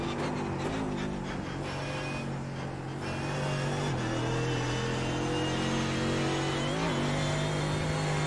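Simulated Mercedes GT3 race car at Monza in iRacing, engine droning loud and continuous with rising and falling revs and gear shifts, no voices over it.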